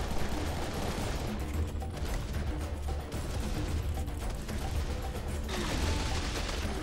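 Sustained gunfire from the video game Serious Sam 3: BFE, loud dense shots and rumbling combat noise running throughout, with faint voices underneath.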